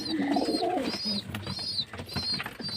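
A pigeon coos repeatedly in soft, rhythmic throaty calls, close by, with faint background noise and no talking.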